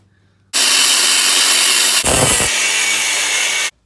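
A power cutting tool bites into a rusty metal driveshaft part in one loud continuous burst of about three seconds, a harsh broadband grinding roar that starts and stops abruptly with a brief shift in tone midway.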